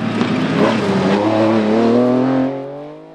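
An MG Metro 6R4 rally car driven hard on a stage at Brean Rally 2008 gives a loud, close engine roar that climbs in pitch under acceleration, then fades away near the end.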